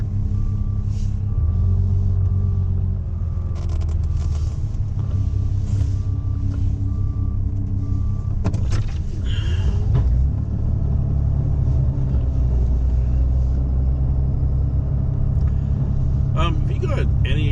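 Inside a 2013 Ram 3500 diesel pickup running a Fisher XV2 plow in a storm, a steady low engine rumble drones on throughout, with scraping and clunks around the middle and a person talking over it.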